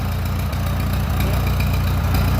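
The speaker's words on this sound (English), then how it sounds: "That's all there is to a hand crank tractor when you set it right." A hand crank tractor engine running after cranking, a loud, close, steady idle with a low, even chugging pulse and no voices.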